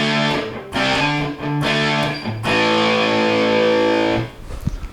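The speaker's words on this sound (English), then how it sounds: "It's a really nice distortion sound there." An electric guitar played through a Catlinbread Knight School DIY fuzz pedal gives a loud, buzzing, distorted tone in several chopped chords, then one long sustained chord that cuts off near the end, leaving faint handling noise.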